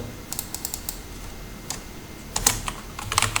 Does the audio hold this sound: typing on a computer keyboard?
yes